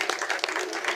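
Steady applause from an audience at an award ceremony in Kirehe District, Rwanda, honoring recipients such as a farmers' cooperative, a continuous dense patter of clapping without pause.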